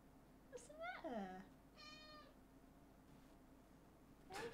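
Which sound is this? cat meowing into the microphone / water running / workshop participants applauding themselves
cat meowing into the microphone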